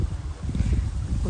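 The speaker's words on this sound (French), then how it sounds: "il y a un peu de vent, j'espère que ça ira sur le micro" Wind buffets the microphone outdoors in a steady, loud low rumble that stays constant from start to end, with no voice over it.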